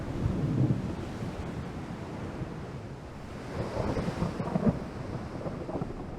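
Heavy rain and rough weather at sea in the naval game Ultimate Admiral: Dreadnoughts, a dense continuous roar with rumbling low swells, fairly faint and without voices.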